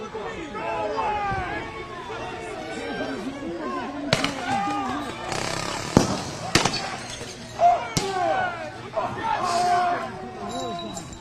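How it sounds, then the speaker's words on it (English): Flashbang grenades go off during a Minneapolis street protest involving federal agents and tear gas: several sharp, loud bangs, some close together, cut through constant crowd chatter and nearby voices. "Sounds like more flashbangs going off as well."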